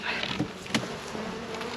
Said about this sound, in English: Okay, now the bees are coming towards me.